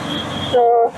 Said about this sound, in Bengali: মেট্রো করে যাচ্ছি